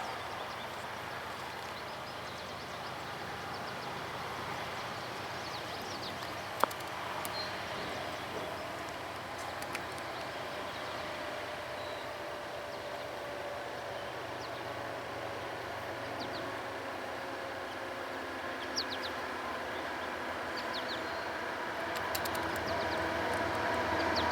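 A CSX freight train on Sand Patch Grade gives a steady, distant rumble and drone that holds evenly throughout, with a few faint clicks and a brief sharp knock over it, and birds faintly audible.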